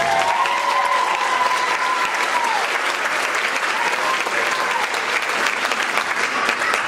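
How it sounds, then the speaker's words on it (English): A crowd applauds the kindergarten children at an elementary school Christmas program, with loud, dense clapping that carries on without a break and a few voices murmuring underneath. "How about a big round of applause for all the kids?"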